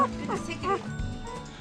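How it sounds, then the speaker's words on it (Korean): A newborn puppy, the only pup of a mother dog on a mountain farm, whimpers and yelps in short high cries over a steady low hum of background noise. "낑낑대는 소리마저 우렁찬 정돌이 2세"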